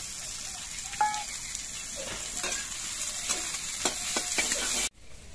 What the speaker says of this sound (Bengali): এই পেঁয়াজগুলো তেলের মধ্যে দিয়ে ভেজে নিচ্ছি